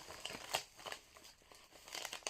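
Kraft paper wrapping crinkles and crumples close up in irregular bursts, with a few sharper crackles along the way.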